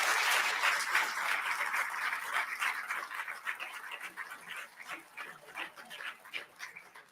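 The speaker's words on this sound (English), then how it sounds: "So let's give Colonel Cummings another round of applause." A crowd applauds steadily for a speaker, Colonel Cummings, dense clapping that gradually thins out and fades into scattered claps.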